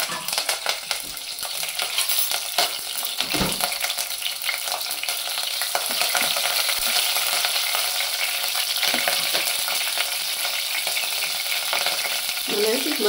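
Curry leaves crackle in hot oil for a mutton curry, giving a loud, continuous sizzle with an occasional stirring scrape.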